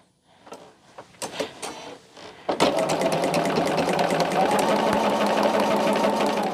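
A sewing machine stitches quilt pieces close by, starting with a few scattered clicks and short bursts, then settling into a fast, steady mechanical rattle of stitching that runs without a break to the end.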